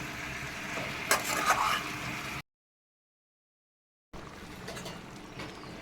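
Chicken sautés with spices in a pan for a cashew chicken curry, giving a low sizzle with occasional stirring scrapes, cut by a short complete silence in the middle.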